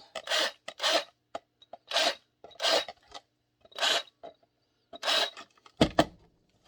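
Drilled holes in a holster for a Sig P320 being cleaned out by hand, a series of close, dry rasping strokes in short regular bursts with brief pauses, ending in a sharper scrape.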